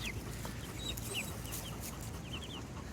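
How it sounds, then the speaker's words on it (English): Chickens huddled together in a transport cage, including white birds, give soft, scattered clucks and short chirps. The sounds come at a steady low level over a quiet background. "Come on, chickens, you can come out."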